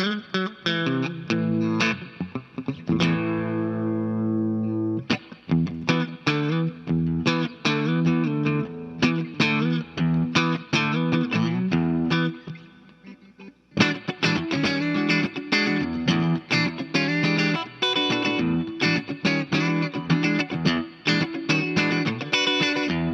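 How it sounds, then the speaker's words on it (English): Electric guitar playing chords and riffs through an effects pedal, with a light reverb tail and a brief pause midway, loud and upfront. "Just a nice, simple reverb."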